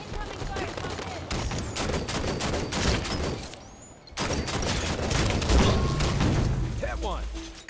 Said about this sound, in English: Incoming fire, come in.